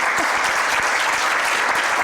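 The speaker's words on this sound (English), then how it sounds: "thank once again the speaker by a long applause." Steady audience applause after a science lecture fills the whole stretch, a dense wash of many hands clapping at even loudness with no voices standing out.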